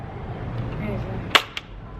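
Two sharp toy gun shots crack in quick succession over a low background hum, the first louder than the second.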